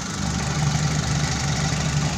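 A Suzuki T120SS injection engine idles with a steady, even low throb and faint ticking, close and continuous over a short stretch, with no voices.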